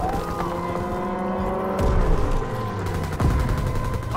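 Gunfire crackles in a Call of Duty: WWII multiplayer battle, with a steady rumble of battle noise and a couple of heavy bursts or booms, under game radio announcements.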